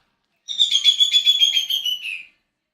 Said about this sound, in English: Get a bird, they said.